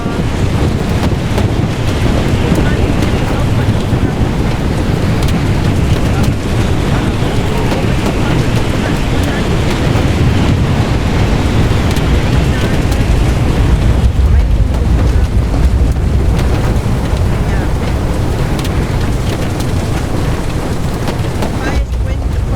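Violent tornado wind roars continuously and loudly into the microphone during a storm chase, a dense buffeting rush with gusts and a brief lull, with faint voices partly buried in the noise.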